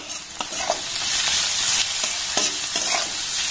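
Carrot, capsicum and tomato stir-fried in a pan over low to medium gas flame, giving a steady close sizzle with light scraping strokes of a spatula at irregular intervals, no voices.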